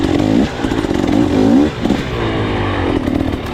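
A KTM 300 XC-W two-stroke enduro motorcycle revving on a slick hard enduro trail, the engine loud and close, rising and falling in pitch through repeated throttle blips with a steady buzzing drone, no talking.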